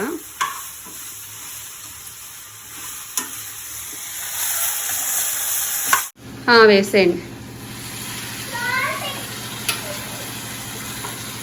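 Water is poured into a frying pan of tomatoes and tamarind with turmeric, so a steady sizzle breaks into a sudden loud hiss and bubbling burst, with someone speaking briefly between the stirring noises.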